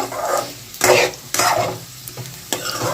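Potato and beetroot fry in a pan, sizzling steadily while a spatula stirs them in repeated loud scraping bursts, with no voices.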